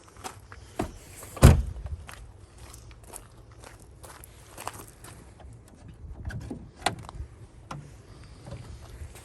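Doors on a 1996 Mercedes E220 coupe in incredible condition close with one solid, close thud early on, followed by a few softer knocks and light handling noises around a quiet interior.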